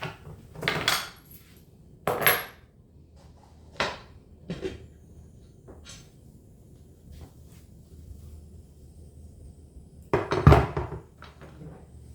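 Glass jars of homemade taco soup lifted out of a pressure canner in a home kitchen, with several sharp clinks and knocks of glass and metal spread out between quiet pauses and a loud cluster near the end.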